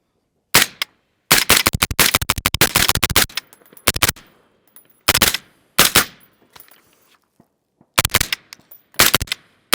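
Suppressed rifle shots through a Radical Defense CS5 suppressor on a PSA AR upper outdoors in hot weather: rapid strings of sharp, muffled cracks in bursts separated by silences, plus a few single shots, loud and close.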